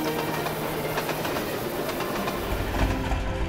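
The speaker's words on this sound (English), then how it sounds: "While Gordon puffed to the big station at the end of the line" Steam engine running along railway track, a steady rumble of wheels on rails with a rhythmic clickety-clack, close and continuous throughout, growing heavier in the low end toward the end.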